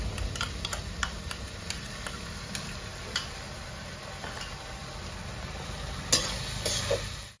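Onions frying in a pan with ginger-garlic paste added, a steady close sizzle with scattered clicks of stirring and a sharper burst of crackle near the end, no voices.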